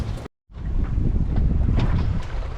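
Wind and water rush past a sailboat running downwind at night with its head sail out, a steady close roar of wind noise on the microphone after a brief dropout.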